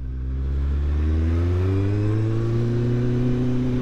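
Motorcycle accelerating on the road: a loud, close engine note that climbs steadily in pitch as the revs build over a few seconds, with no talk.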